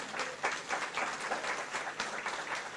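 An audience at the opening ceremony of a Gwo ka music festival applauds steadily, a dense wash of many hands clapping at once with no voices standing out.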